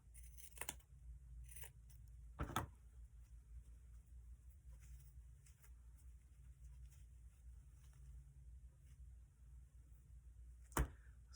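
Scissors trim loose threads off a tassel, with a few sharp, isolated snips spread across a quiet stretch.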